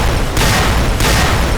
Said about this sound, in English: I'm pretty sure all three of them just threw dynamite at me.